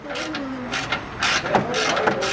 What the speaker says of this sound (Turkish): Mesela şu civatada 12 lokma ile sökülüyor.